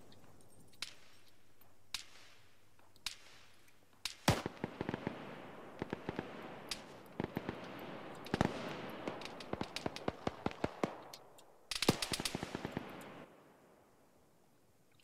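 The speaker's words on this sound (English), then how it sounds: "This machine gunner firing up, I think, at the hill squad." Machine gun fire in Arma 3 comes as sharp, distant rapid bursts and scattered single cracks, growing denser toward the middle and ending in a heavy cluster of shots.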